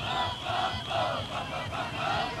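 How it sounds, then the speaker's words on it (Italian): A carnival crowd follows a parade float at the Sangavinese carnival in Terralba, a loud, continuous mass of shouting and chanting voices rising and falling in waves. "dietro a questo carro che in questo momento ci vediamo passare davanti c'è la folla"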